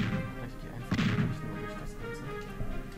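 Explosion in the video game The New Superman Adventures: a single short, booming burst about a second in, standing out over continuous game music and effects.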